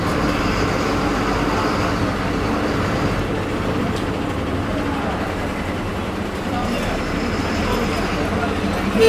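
Steady engine rumble and road noise from a moving new BS-6 MSRTC bus, heard from inside, continuous throughout.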